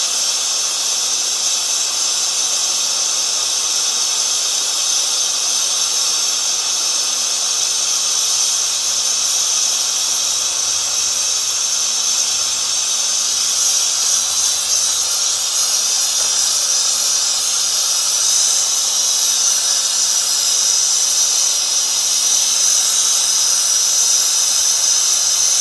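A torch roars with a steady, loud, continuous hiss while heating a mold for a 500 sub bar pour, unbroken and alone with no voices.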